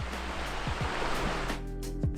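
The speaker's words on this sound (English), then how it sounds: "look at this awesome creek we get to walk along" A creek flowing beside a Grand Canyon hiking trail, a constant rushing, splashing roar of water close by, loud and steady throughout with no talk.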